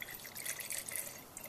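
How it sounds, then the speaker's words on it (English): Alcohol poured into a glass wet specimen jar, a steady close splashing and trickling of liquid with faint dripping, continuous through the moment with no talk. "what I'm going to do is just pour my alcohol in there"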